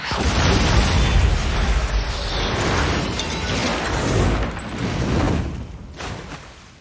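A 5-inch naval gun firing in a film scene, heard as a loud, sustained rumbling blast with crackling debris that slowly fades over several seconds, near and without voices.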